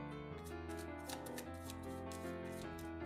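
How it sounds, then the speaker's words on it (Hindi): Tarot cards are shuffled by hand in quick repeated bursts of papery riffling and slapping, close and fairly quiet, keeping a busy, even pace throughout with no voice. "पहले हम कार्ड्स को शफल कर लेते हैं।"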